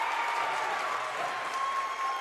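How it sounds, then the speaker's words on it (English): The Pulaski crowd at a high school boys' basketball game against North Laurel, a steady roar of cheering and clapping filling the gym, loud and continuous with no pauses. "Crowd into the game. That's the Pulaski crowd, by the way."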